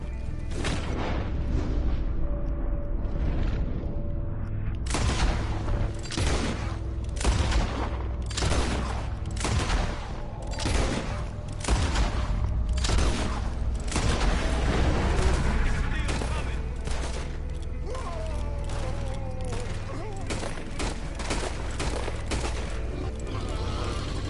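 Rapid volleys of rifle and pistol gunfire aimed at a large alligator in Red Dead Redemption 2, loud repeated sharp cracks and booms in irregular bursts over continuous background noise.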